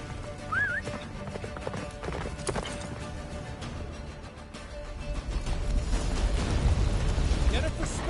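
Geralt's horse Roach gallops through a blizzard in The Witcher 3, rhythmic hoofbeats under a whinny, whooshing wind and distant rumbling booms, with voices talking over the ride.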